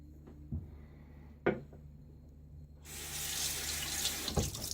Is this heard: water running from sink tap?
yes